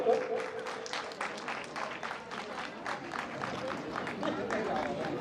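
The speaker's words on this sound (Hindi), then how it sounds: "तालियां बजती रहनी चाहिए दोस्तों।" Audience applause at an award ceremony, a steady wash of clapping from a crowd that keeps going throughout, with a presenter's voice briefly heard early on.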